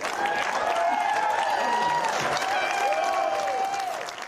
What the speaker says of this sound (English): Big cheers from the crowd there.